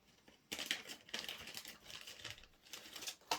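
Crinkling of a resealable plastic bag holding clear parts from a Zvezda Ilyushin IL-62M model kit, in close, irregular rustling bursts that start sharply and keep going in uneven waves.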